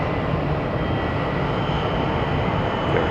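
A Spirit Airlines jet takes off at Atlanta Hartsfield airport, its engines a loud, steady, broadband roar that holds constant throughout with no talk.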